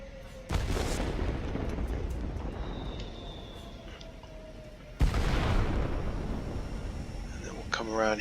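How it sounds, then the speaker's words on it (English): Bombs dropped from a Tier X German Messerschmitt Me P.1102 B attack aircraft explode in the World of Warplanes video game, two loud booming blasts arriving several seconds apart over a steady engine roar. "Let's drop some bombs."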